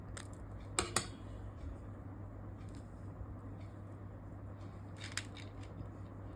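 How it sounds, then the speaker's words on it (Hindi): Crochet thread snipped with scissors, two quick close snips followed later by another faint cut, over a quiet background hum. "अब हम यहाँ से थ्रेड को कट कर देंगे।"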